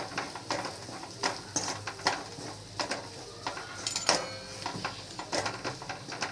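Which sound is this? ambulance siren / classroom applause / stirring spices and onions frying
stirring spices and onions frying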